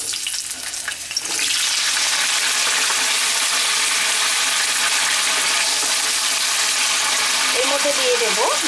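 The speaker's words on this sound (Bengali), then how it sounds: "আলুগুলো ভেজে নেব" Potatoes dropped into hot oil in a nonstick wok, a quiet start giving way to a loud, sustained, even sizzle that fills the rest, with a faint voice briefly near the end.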